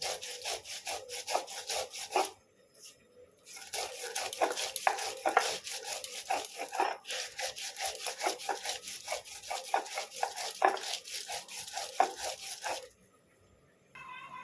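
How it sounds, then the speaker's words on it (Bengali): Mustard masala for shorshe ilish is ground by hand on a shil stone slab, producing rhythmic back-and-forth gritty scraping strokes, close and steady, with brief pauses between runs. "মশলা বাটা প্রায় হয়েই এসেছে"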